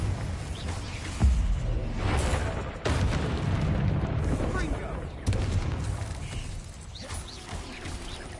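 Fire blast spells from a wizarding game explode in a string of heavy booms, several sharp blasts spaced a second or two apart over rolling rumble and battle noise.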